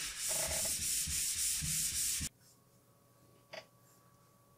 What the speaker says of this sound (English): it was better to use a flat sanding thingy. On a broomstick thingy.